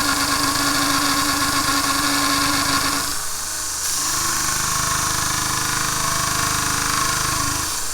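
A Vevor 1x30 belt grinder with a 100 grit belt grinds a 3/8 inch thick piece of steel, a loud steady whine that briefly dips in pitch and load partway through, then continues running.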